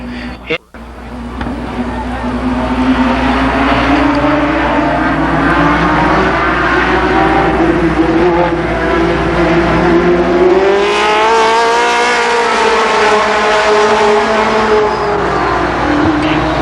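Super late model stock cars roar down the backstretch at Columbus Motor Speedway in 1992, engines loud and rising in pitch as they pass. A race commentator talks over the noise.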